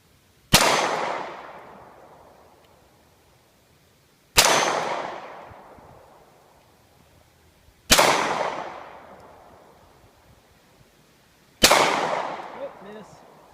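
Four loud Springfield XD-S .45 pistol shots fired outdoors at a steady spacing of about three and a half seconds, each a sharp crack with a long echoing decay.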